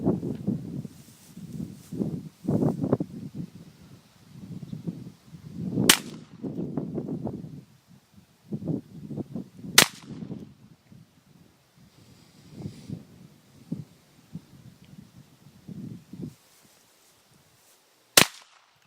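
.22 pistol shots fired at a paper target, three sharp loud cracks spaced several seconds apart, with a person talking quietly between them.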